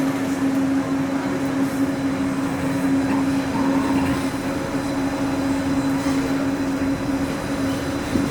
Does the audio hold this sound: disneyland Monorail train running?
yes